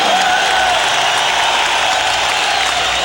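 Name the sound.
applause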